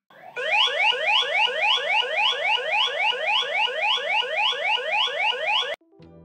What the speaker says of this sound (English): When the alarm is triggered, your phone will make a loud noise to let you know.